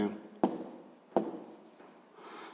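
Pen or marker writing numbers on a board or paper during a sixth-grade maths lesson, two sharp strokes followed by softer scratching, close and fairly quiet with a teacher talking around it.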